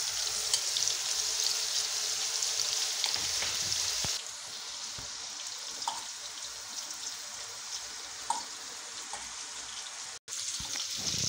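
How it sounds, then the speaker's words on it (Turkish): Köfte meatballs frying in oil give off a steady, close crackling sizzle, dense at first, then slightly softer, with a few faint clicks and a short dropout near the end. "köftelerimizi de kızarmaya başladı."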